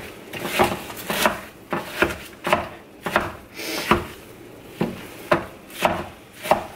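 Ground turkey is broken up in a pan with a meat chopper tool, giving close, rhythmic chopping and scraping knocks roughly every half second, with no talking.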